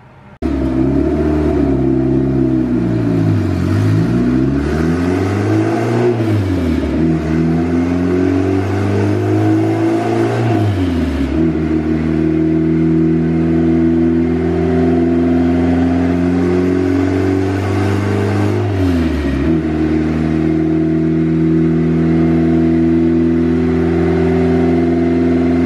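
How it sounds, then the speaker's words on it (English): Turbocharged B16 engine in an EF Honda Civic revs repeatedly on a dyno, rising and falling in several sweeping pulls before holding a loud sustained high-rpm drone. "I'm not gonna rev it as high, just because it got a little angry."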